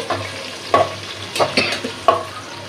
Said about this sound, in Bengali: ভাজা ভাজা করে লই